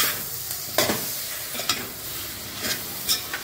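Prawns stirred and fried with masala and onion in a pan, a continuous close sizzle broken by several sharp scraping strokes of the spoon.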